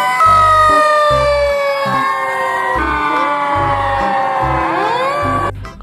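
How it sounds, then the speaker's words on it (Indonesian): A loud, close electronic toy fire truck siren wails in rising and falling tones, with a pulsing low beat underneath, cutting off abruptly at the end. "ada mobil pemadam kebakaran,"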